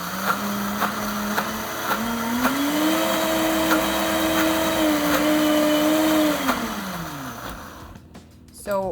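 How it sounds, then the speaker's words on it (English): A countertop blender in a home kitchen blends a mixture for vegan kale chips. Its motor spins up to a loud, steady whir for several seconds, then winds down and stops near the end. "Put the lid on and blend away."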